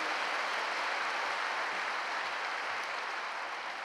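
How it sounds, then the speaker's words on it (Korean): Steady, moderately distant applause from a congregation at a church worship service, an even wash of clapping that holds throughout without talk. "우리 예수님께 다시 한번 큰 박수를 올리겠습니다"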